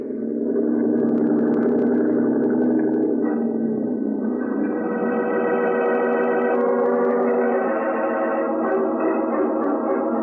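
Boat engine sound effect from a vintage radio crime drama, a steady droning motor hum with wavering tones and an echoey, processed quality, continuous and loud throughout with no voices.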